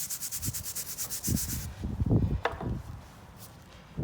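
An abrasive rock rubs back and forth across stained concrete in quick rhythmic scrapes, then slower, heavier grinding strokes and a few knocks, close and fairly quiet.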